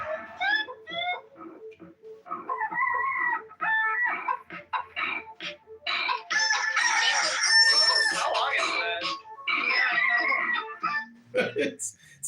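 Chicken clucking and rooster crowing run through a techno track, with repeated cackles and crows layered over a steady electronic beat, loud and continuous for the whole stretch.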